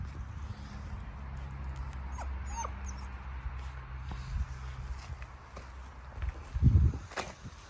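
Several 45-day-old Kangal puppies whimper and shuffle about nearby, soft continuous whines and scrabbling movement with a louder burst of activity near the end, and no clear talk.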